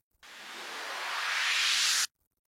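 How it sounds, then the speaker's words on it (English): A synthesized white noise sweep used as an electronic dance music transition, a single bright hiss that swells gradually over about two seconds and then cuts off abruptly, heard alone. "Then we have a simple white noise sweep."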